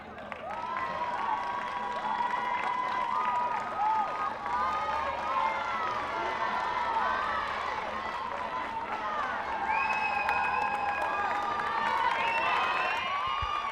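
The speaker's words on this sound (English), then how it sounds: "Make sure we give them a big round of applause as they take the field." A stadium crowd at the CBUS Super Stadium on the Gold Coast applauds and cheers as police rugby league teams take the field, a dense, continuous roar of clapping and shouting with whistle-like tones drifting through it.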